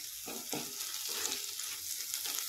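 Green chili paste (thecha) fries in a hot pan for a Marathi-style brinjal bharit, giving a steady bright sizzle with a few soft stirring scrapes close by and no talking.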